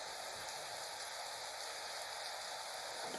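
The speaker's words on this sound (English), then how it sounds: "don't worry, it's just a little rain and thunder." Rain falls in a steady, soft hiss, even and faint throughout, with no distinct thunder rumble standing out.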